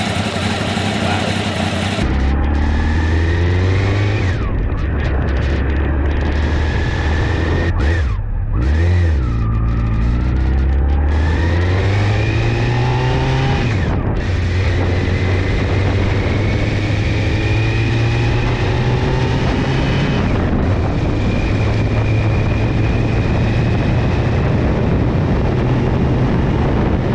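Honda CBR600 sport motorcycle, Smokin Joe's edition, ridden on the road, its engine rising and falling through gears in repeated revving pulls, close and loud with steady wind rush throughout.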